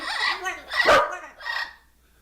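A dog barks and yips three times in quick succession, fairly close, with a rough, excited tone amid a lively indoor setting.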